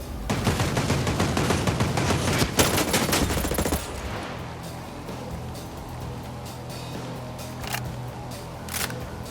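Dense, loud automatic gunfire in the video game Ghost Recon Breakpoint on PS5 rattles for several seconds, then drops away to a quieter background broken by a few scattered distant shots.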